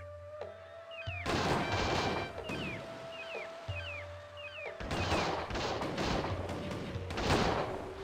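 Repeated musket and artillery volleys from a Cossacks real-time strategy battle, loud bursts arriving in clusters with brief pauses, over a steady game tone and occasional short synthetic chirps.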